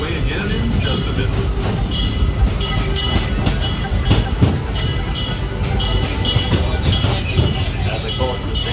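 A Disneyland train pulls into a station, with steady rumbling wheels, rattling cars and intermittent metallic clicks and squeals running throughout, while voices are heard faintly underneath.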